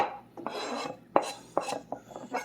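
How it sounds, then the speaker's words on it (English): Back of a kitchen knife scraping chopped sun-dried tomatoes across a cutting board, a few short, close rasping strokes with light clicks of the blade. "make sure if you're going to scrape off the board, put the blade up and use the back side of your knife"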